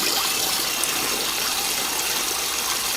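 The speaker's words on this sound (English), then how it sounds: "So now we're going to add our water." Water pours steadily into a pot of 15-bean soup, a continuous bright gushing splash held close and fairly loud for a few seconds, with no talking over it.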